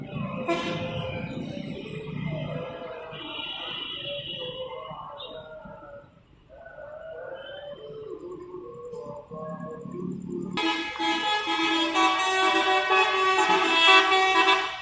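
A truck's horn honks on the road, first with some scattered tonal toots, then a loud, sustained blast that takes over for the final few seconds.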